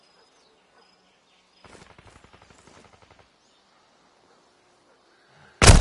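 Call of Duty MW2 multiplayer gunfire sounds as a quick rattling automatic burst at middle distance, then silence, then a sudden loud blast at the very end.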